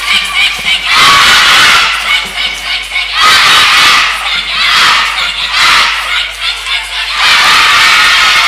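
A crowd cheers, shouts and celebrates a KA/Þór women's handball playoff win over FH, loud and sustained, swelling in repeated waves of high-pitched voices with no clear single speaker.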